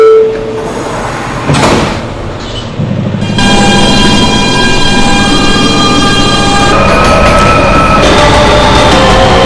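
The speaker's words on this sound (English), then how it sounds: "Closing doors, please." A loud door chime sounds on an R160B Siemens New York subway N train, then sliding doors shut with a thump, followed by a steady electric hum as the train sits ready.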